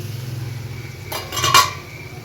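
A metal lid comes off a cooking pan of green tomatoes and eggplant, a couple of sharp clinks and a scraping clatter over a low steady hum of the stove.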